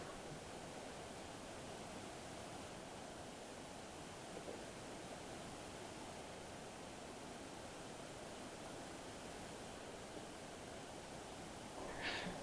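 Empress Falls on Valley of the Waters Creek in the Blue Mountains, a waterfall heard as a faint, steady broadband rush of falling water, uniform throughout with no voices.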